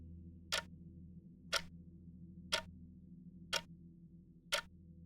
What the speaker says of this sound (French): Le silence est pesant, brisé uniquement par le tic-tac de l'horloge murale.